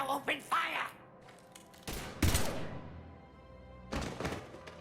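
Gunfire in the video game Mass Effect 3, with several loud, sharp impacts and bursts spread across the moment, mixed with game voices and music.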